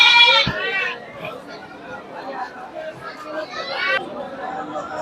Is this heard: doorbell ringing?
no